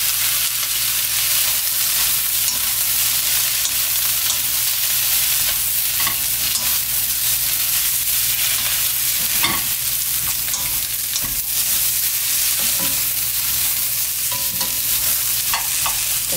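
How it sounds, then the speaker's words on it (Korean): Dried squid strips stir-fried in a hot pan with onion, chili and carrot, a steady close sizzle running throughout with frequent scraping and tossing clicks of the utensil, no voices. "2분 정도만 볶아주고요"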